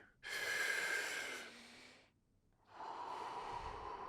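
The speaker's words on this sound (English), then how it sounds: "use your belly and use your chest to inhale fully" Deep breaths using belly and chest, heard close up: a long, strong airy inhale of over a second, a brief quiet pause, then a second long breath just as loud and breathy, with no talking.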